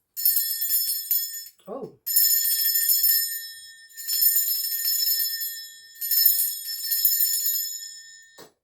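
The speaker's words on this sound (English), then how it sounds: "I'm going to ring this bell" Bright metallic bell struck three times, each ring sustaining and slowly decaying with a shimmering high overtone, close and clear; a brief low vocal exclamation occurs between the first and second strikes.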